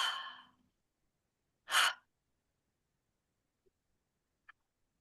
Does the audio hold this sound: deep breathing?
yes